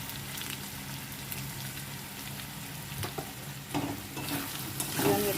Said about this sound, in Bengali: আমি এটাকে ভালো করে নেড়ে চেড়ে একটু কষে নেবো, তাহলে আদা রসুনের গন্ধটা ছাড়বে